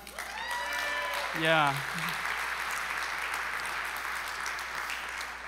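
A church congregation at Groton Bible Chapel claps for the worship team, a steady wash of applause lasting the whole stretch, with a brief spoken interjection early on.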